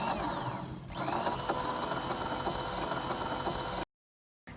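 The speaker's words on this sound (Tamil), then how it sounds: "நான் வந்து எலக்ட்ரிக் ஹேண்ட் மிக்சர் யூஸ் பண்ண போறேன்" An electric hand mixer churns yogurt for chocolate lassi with a steady, loud motor whir that shifts pitch early on, then cuts out abruptly near the end.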